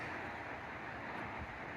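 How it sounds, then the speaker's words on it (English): Wind blows steadily outdoors at Lutton's Methodist Church and Cemetery on a windy day, a constant rushing roar buffeting the microphone with no voices over it. "Windy day."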